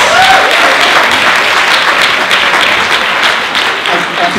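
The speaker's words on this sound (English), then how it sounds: "Give her a round of applause, please." An audience claps for a woman who has just spoken, a loud, dense burst of applause that runs steadily and starts to thin out toward the end.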